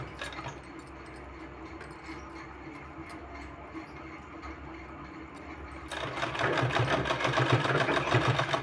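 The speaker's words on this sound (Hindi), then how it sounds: "इसी तरह से पूरे में सिलाई लगा देना है" A sewing machine stitches a neck design on fabric, running quietly at first and then speeding into a loud, rapid, steady whir of stitches.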